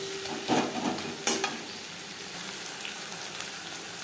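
Onion, garlic, ginger and green chili paste frying and being stirred in a pan for a fish-head and Malabar spinach dish, with a steady soft sizzle and a few louder stirring scrapes near the start.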